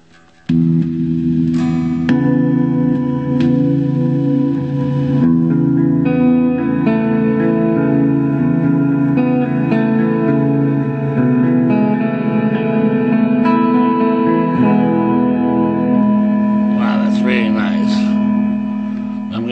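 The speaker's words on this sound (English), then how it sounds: "Probably my favorite sound right there, that just cavernous reverb" Electric guitar chords ringing out with a huge, cavernous reverb, notes washing together into a long sustained wash of sound.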